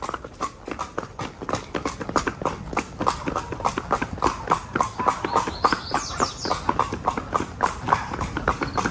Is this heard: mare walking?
yes